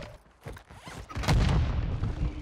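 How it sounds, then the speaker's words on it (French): A grenade explodes in Warzone 2 gameplay, a deep booming blast swelling up mid-clip and rumbling on to the end, preceded by softer clatter and gunfire-like knocks. "la grenade, elle m'a fait mal"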